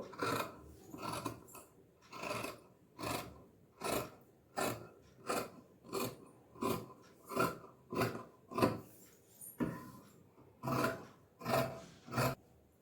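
Scissors cut through blouse sleeve fabric in a steady series of rhythmic, rasping snips, about a dozen regular strokes close up with no talking.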